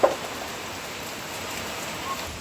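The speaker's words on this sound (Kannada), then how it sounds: "ಭಯಂಕರ ಮಳೆ ಬರ್ತುಂಟು ನಮ್ಮ ಈಚೆ, ಸುಳ್ಯದಾಚೆ." Heavy rain pours steadily near Sullia, a dense, even hiss that continues without a break, with a short sharp knock at the very start.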